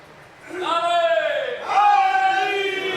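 A crowd at a Muharram religious gathering in Pakistan shouts religious slogans in unison: two loud, close bursts of many voices rising together, the second stronger and more sustained.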